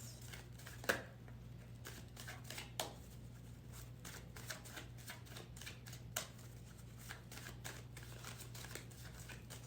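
Tarot cards shuffled by hand, giving repeated crisp riffling and snapping bursts in an irregular rhythm, close and fairly quiet over a steady low electrical hum, with no talking.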